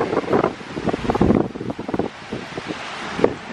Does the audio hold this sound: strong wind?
yes